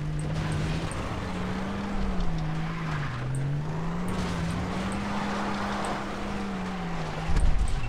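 A video game car engine drones steadily as it drives over rough, rocky hillside terrain in Far Cry 3, its pitch wavering up and down with the throttle, loud and continuous, with a brief bump near the end.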